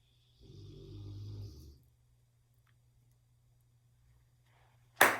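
A low, rasping snore rises and falls once over about a second and a half against a quiet background, then a sudden loud burst cuts in at the very end.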